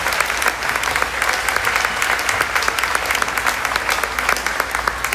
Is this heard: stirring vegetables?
no